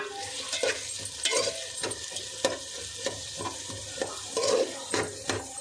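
Onions and green chillies cook under a lid in a pan, with repeated scraping stirs and clinks of a spoon against metal over a steady low sizzle, close and moderately loud.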